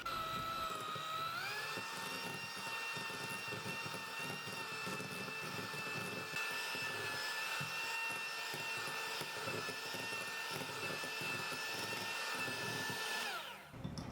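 An electric hand mixer beats white butter (shortening) for cupcakes, a steady high whine with shifting motor pitch running continuously and evenly loud until it cuts off near the end.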